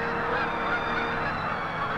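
A flock of Canada geese flying over a wildlife sanctuary honks continuously, many overlapping calls forming a loud, dense chorus with no pauses and no voices.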